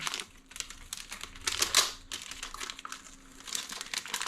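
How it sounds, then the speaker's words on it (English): A plastic-sealed envelope of custom decals is opened close up, giving quiet, irregular crinkling and rustling of plastic wrap in short bursts, with no talking. "We'll get this envelope open here."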